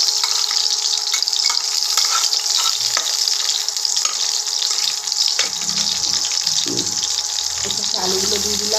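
Potatoes tipped into hot oil in a pan, a loud continuous hiss and crackle of frying held throughout, with some lower clunks and shifting sounds near the end, close up.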